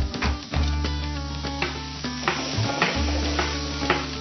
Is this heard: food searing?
yes